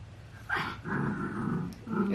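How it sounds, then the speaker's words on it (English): A pet dog growls in low, rumbling bursts while playing with her toy, close by, with two or three growls in quick succession. "if you hear that, it's my pup. She's playing with her toy."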